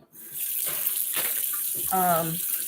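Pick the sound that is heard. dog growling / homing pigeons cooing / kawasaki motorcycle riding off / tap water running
tap water running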